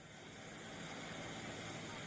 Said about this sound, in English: A helicopter drops lime into the river to try and neutralize the acidity from the spill.